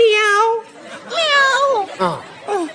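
A man imitates a cat's meow as a night-time signal, producing three or four drawn-out, wavering mewing calls in a nasal, rising-and-falling voice, loud and close.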